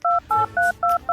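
A telephone number is dialed as five crisp, loud touch-tone beeps in an even rhythm, each about a fifth of a second long with short gaps between them, no speech.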